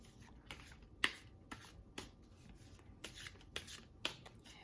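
Tarot cards riffled and shuffled by hand in a quiet room, a run of short crisp snaps and soft rubbing strokes about every half second, close and alone.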